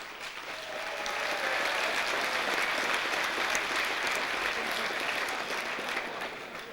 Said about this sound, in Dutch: Applaus voor de adjudant, Ab.